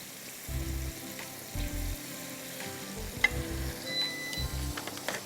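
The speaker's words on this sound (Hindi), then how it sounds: "कैनोलिव ऑयल में हम फ्राई कर रहे हैं।" Food fries in canola oil, a fairly quiet, even sizzle with occasional soft clicks and low bumping sounds of handling, no speech.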